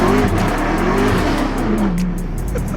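A 2019 Dodge Charger Hellcat accelerating hard through first and second gear, loud rising engine roar with a brief gear change, heard from inside or close by with no talk.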